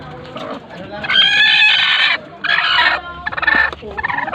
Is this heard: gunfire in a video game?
no